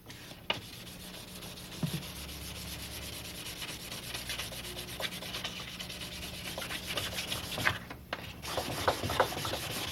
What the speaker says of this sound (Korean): 사포로 작품의 평면을 민다